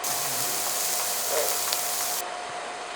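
Vegetables with onion and chili sauteing in a pan for a vegan Sri Lankan dish, giving a steady close sizzling hiss that runs evenly throughout before dropping slightly near the end.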